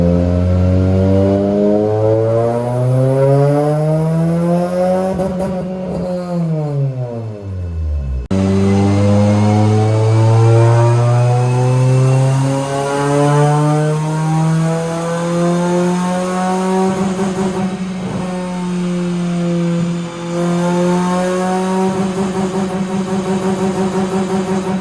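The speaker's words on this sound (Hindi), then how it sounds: "आइए बगैर कोई वेला बर्बाद किए गाड़ी के डायनो का आगाज करते हैं" A car on a dyno revs loud and close, its engine note climbing through long sustained pulls, dropping sharply once and then rising and holding again, with no voices over it.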